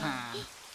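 Rain falls at a campsite in a children's animation, a faint patter under a bright, tonal voice or music phrase that drops away halfway, leaving the soft hiss of rain.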